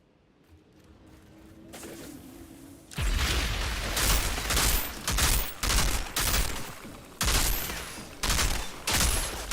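Sniper gunfire in an Outriders desert battle: after a quiet build-up, a loud blast opens a run of sharp, heavy shots at irregular intervals, each cracking out close and booming over a rumbling background.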